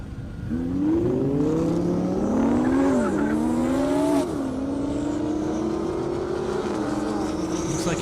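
A Lamborghini Huracan and a Dodge Hellcat race down a half-mile airstrip, engines roaring loud and close as their pitch climbs through gear changes, one steady sustained drone dominating with no talk.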